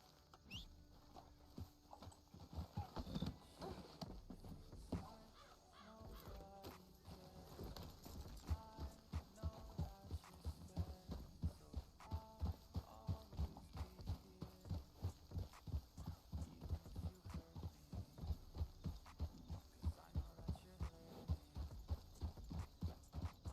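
Horse hooves clip-clop steadily in Red Dead Redemption 2, a Palomino gypsy cob mare at a regular walking rhythm, the crisp hoofbeats close and prominent for the whole stretch with a faint musical bed beneath.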